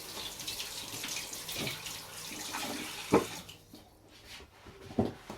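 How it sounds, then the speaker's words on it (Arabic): Water runs from a tap as hands are washed during cooking, a faint steady trickle broken by a few soft splashes and clinks close by. "عندي نغسل يدي."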